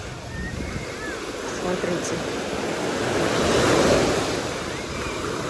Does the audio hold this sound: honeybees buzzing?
no